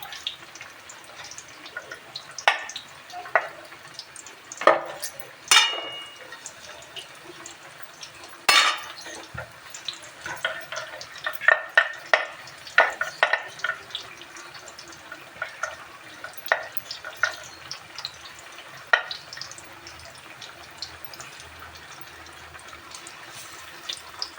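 Bottle-gourd fritters, pakoras with gram-flour batter, frying and being stirred in a pan, with a soft sizzle under scattered clinks and scrapes of a utensil against the pan, irregular and close, no speech.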